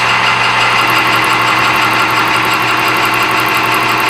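A lathe turns a Durlin part true with a small high-speed steel cutting tool, giving a loud, steady mechanical whir and hum with a constant tone throughout and no talking.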